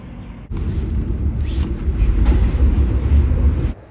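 A train ride from Sydney to Newcastle: a loud, steady rumble of the moving carriage with rail noise, starting abruptly and heard from inside the train, no speech.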